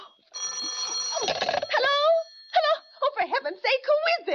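An old telephone bell rings steadily while someone talks and wails over it in a dramatized radio scene.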